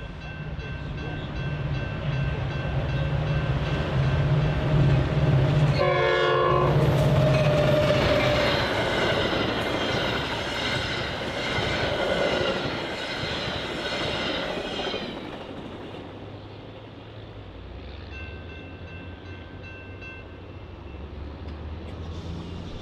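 A Metra commuter train runs westbound on the BNSF line toward Downers Grove, a loud steady rumble of cars and wheels with a brief horn-like tone near the start, easing off toward the end.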